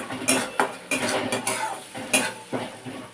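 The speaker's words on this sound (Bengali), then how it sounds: "মশলাটাকে একটু কষা কষিয়ে নেবো যাতে আদা কাঁচা গন্ধটা চলে যায়" Spice paste with ginger stir-fried in a pan for mung dal with radish, the spoon scraping and clinking against the metal in repeated strokes, with a low sizzle underneath.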